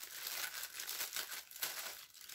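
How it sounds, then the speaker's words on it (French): Wrapping paper crinkles and tears as a handmade sorter gift is unwrapped, a close run of rustling rips in irregular bursts. "je déchire le papier"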